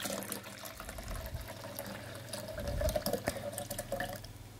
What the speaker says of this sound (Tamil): இதில் வந்து நம்ம ஆற வச்ச பால் வந்து சேர்த்துக்குவோம்.